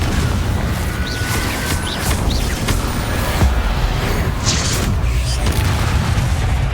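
Confringo fire-blast explosions in Hogwarts Legacy on Xbox Series X: repeated booming bursts and crackling impacts over a constant rumbling combat bed, with spell shouts from a voice between blasts.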